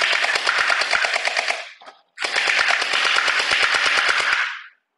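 Overwatch Tracer Pulse style gel ball blaster fires long rapid full-auto bursts, two strings of sharp evenly spaced shots broken by a short pause, loud and close with no talking.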